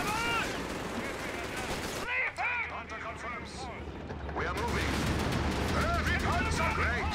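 Tank machine gun fire in Company of Heroes 3 rattles through a busy battle soundscape, with bursts and distant booms under near-constant excited talking.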